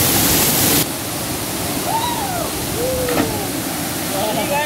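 Steady rushing roar of the Rahayu waterfall in a forest setting, loud and continuous, with faint bird calls sliding over the wash of falling water.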